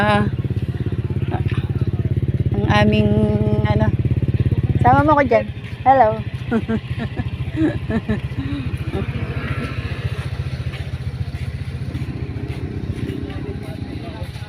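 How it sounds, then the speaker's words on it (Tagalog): Motorcycle engines idle and rumble steadily nearby in a mall motorcycle parking area while people talk over the noise; a brief louder rev stands out partway through. "Parking pa lang to ng mga motor."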